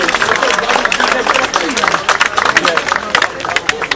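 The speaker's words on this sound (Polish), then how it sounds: "dziękuję samorządom i brawa dla nich, naprawdę" An outdoor audience at a monument unveiling in Jarocin claps steadily for the sponsors, brisk, fairly close applause with scattered voices mixed in.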